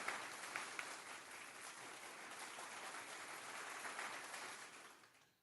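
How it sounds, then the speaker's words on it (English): A canned applause effect plays on a news-talk radio show, a steady wash of crowd clapping at low level that holds evenly and then fades out. "oh, there's my applause."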